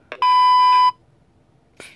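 A short electronic tone from an old phone, a sustained beep of under a second set between a brief voice sound and another short vocal noise.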